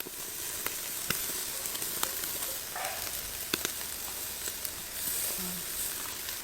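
Chicken pieces, brushed with oil, sizzle steadily on a very hot barbecue grill, a continuous close crackle with scattered sharp pops and ticks.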